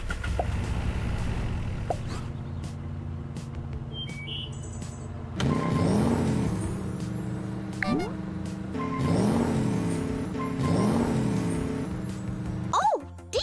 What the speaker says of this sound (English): Start your engines.